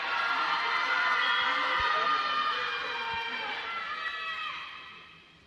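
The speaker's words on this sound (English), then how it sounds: "the crowd going wild for Emma Ryan's final dive" Crowd at a women's 1m springboard diving final cheers and roars loudly and steadily after the last dive, the noise holding for several seconds before fading out.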